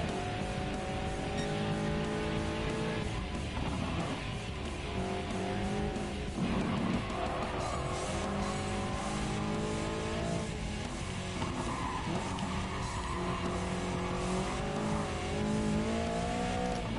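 Race car engine in Gran Turismo Sport, a sustained revving drone with shifting pitch, tire squeal mixed in, loud and continuous throughout.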